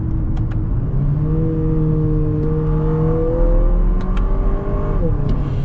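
Lexus NX 350 F Sport with an 8-speed automatic in manual mode, engine revs rising and stepping through quick downshifts, a steady close turbocharged drone heard from inside the cabin with no talk.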